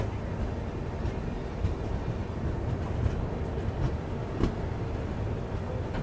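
The Maurya Express passenger train runs between Gorakhpur and Ranchi after departing Bhagwanpur, heard as a steady, loud rumble of rails and wheels from on board, with faint wind noise and occasional louder knocks.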